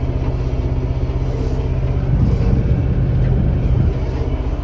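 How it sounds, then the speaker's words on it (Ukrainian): Tractor towing a trailer drives past on a farm field, a steady low engine rumble that swells slightly in the middle as it passes close by, with no talk over it. "трактор с тележкой."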